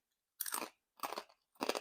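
Crunchy air-fried pork ears being chewed, three distinct loud crisp bites in a row, close to the mouth, with silence between each.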